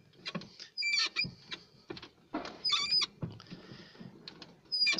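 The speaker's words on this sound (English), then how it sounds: "very stiff and noisy steering." Stiff steering on a Mercedes A-Class W168 gives off irregular squeaks and creaks with rubbing and rattling between, close-up and without talk.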